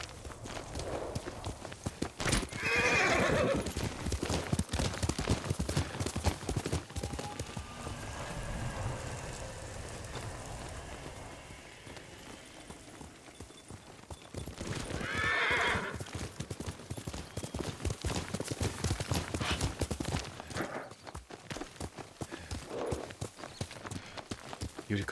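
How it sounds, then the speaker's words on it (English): Horse hooves clip-clop through much of the scene in Ghost of Tsushima, with two loud whinnies, one early and one in the middle, set against a busy outdoor game soundscape. "Yuriko's horse."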